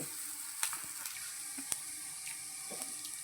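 Vegetables and curry leaves frying in a pan for egg fried rice give a soft, steady sizzle with a few sharp pops and clinks, fairly quiet and with no voices.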